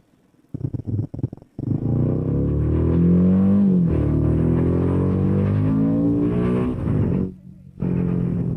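A Royal Enfield Himalayan 450 dual-sport motorcycle ridden along a lane, its engine holding a steady droning note with a brief rise in pitch partway through, then cutting out briefly near the end before returning.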